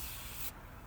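Battery terminal cleaner sprays in a steady close hiss onto a corroded Ford Mustang battery terminal, then cuts off abruptly halfway through, leaving faint room noise.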